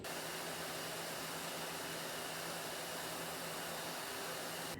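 A heat gun blows steadily to warm and loosen the adhesive holding a Rode Go wireless mic's cover plate during a battery repair, giving a constant close airy roar throughout with no talking.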